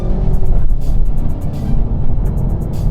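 A 2023 Renault Megane RS Ultime hot hatch accelerates, a loud steady engine roar with brief ticking overtones, heard alone without speech.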